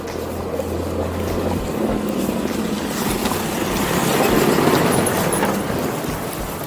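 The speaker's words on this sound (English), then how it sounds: "the tractor decided to speed up just as he went past us" A tractor's heavy engine rumbles and grows louder as it speeds up passing close by on a road, with wind buffeting the microphone throughout.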